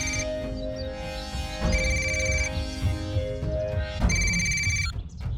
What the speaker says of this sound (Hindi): भाई, घंटी जा रही है।